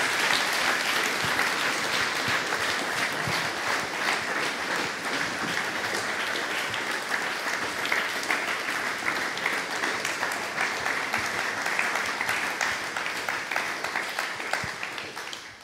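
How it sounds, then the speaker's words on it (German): Sustained audience applause after a chef's personal story at a talk, dense and steady for about fifteen seconds from a full room, fading slightly at the end. "Ich glaube, es hat einen Applaus verdient,"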